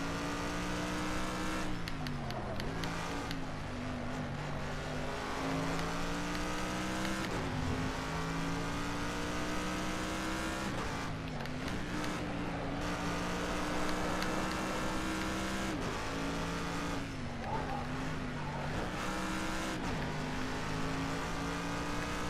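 A race car engine screams through a flying lap in a racing video game, droning loudly and steadily, with repeated rising revs cut by quick gear-shift dips throughout, and no talking.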